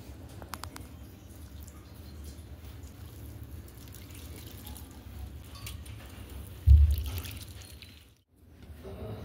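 Water trickling and splashing into multigrain flour with chopped onion as dough is mixed and kneaded by hand, a soft steady wet sound with a louder burst near the end before a brief pause.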